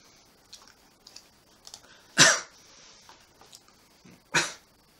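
Cough sounds from a player during a hungry arcade machine video game, two louder harsh bursts standing out among scattered small clicks and breaths, fairly close with no speech.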